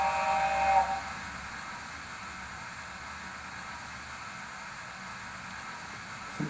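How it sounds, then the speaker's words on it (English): A long steam whistle from a Hornby P2 model locomotive's sound generator opens the clip, a steady hissing blast lasting just under a second, then trails into a continuous low background hiss and rumble with a brief burst at the end. "A longer whistle."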